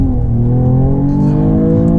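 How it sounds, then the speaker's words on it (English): A Mercedes-AMG GT 53 turbo engine revs hard under full acceleration in first gear, a loud, close, steadily rising drone that fills the whole clip without talk. "I'm going to put it in 1 just so you can see the full-blown acceleration"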